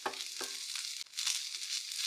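Soft hissing sizzle of mushrooms hitting a hot oiled pan, with a couple of light clatters, faint and close with no talking.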